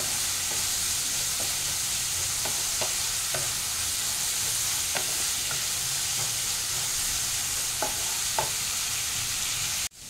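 Mixed vegetables for Hakka noodles stir-fry in a hot pan with a constant close sizzle, while scattered scraping clicks from the spatula come through. The cooking noise cuts off abruptly at the end, and nobody talks.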